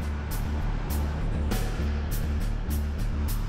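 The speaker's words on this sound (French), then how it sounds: "Ce jour-là, la circulation à l'entrée de la capitale est très dense." Heard from inside a truck cab in dense traffic entering Paris, a low engine idles with a rhythmic throb while short, sharp clicks repeat at irregular intervals over the steady road noise.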